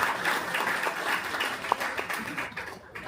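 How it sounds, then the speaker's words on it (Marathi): An audience at a public event honouring a young community leader bursts into applause, a dense continuous patter of many hands clapping that fades out near the end. "एकदा जोरदार टाळ्या होऊन जाऊ दे मित्र त्यांच्यासाठी"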